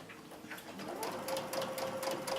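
A sewing machine fitted with an edge joining foot stitches steadily along a seam, a close, continuous mechanical whir with a faint ticking rhythm running alone for a couple of seconds.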